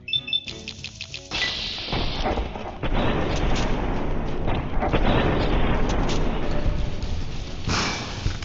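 A grenade explosion indoors in the video game Fallout: New Vegas, a sharp metallic clatter followed by a loud blast and a long rumbling, crackling roar that stays heavy for several seconds.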